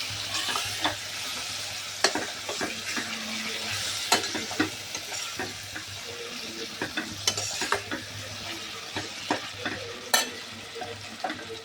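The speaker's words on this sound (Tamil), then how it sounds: "சிக்கன் போட்டு அது நல்லா வதங்கட்டும்" Chicken sizzles in a hot pan for chicken biryani while a utensil scrapes and stirs it at irregular moments, close up and without speech.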